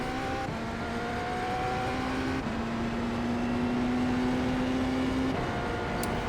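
A BMW LMDh race car in iRacing at Long Beach runs flat out, a loud continuous engine drone rising in pitch through the gears with brief shift drops between.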